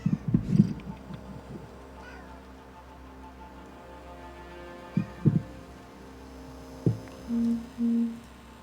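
A cat meows in a few short, scattered calls over a steady low hum. The calls are spaced by long quiet stretches and end with two flat tonal blips.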